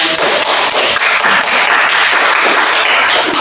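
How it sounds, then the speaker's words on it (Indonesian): Dense applause from a room full of people, continuous clapping at steady loudness throughout, no speech. "Beri tepuk tangan"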